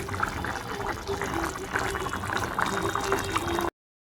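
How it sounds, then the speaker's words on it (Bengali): Water is poured into a pot of cooking rice in a home kitchen, a steady close splashing fill lasting a few seconds before cutting off abruptly. "ভাতের জল দিতে হবে দেখি"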